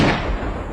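A single sharp sniper rifle shot in a comedy skit, a loud close blast that rings and decays over under a second.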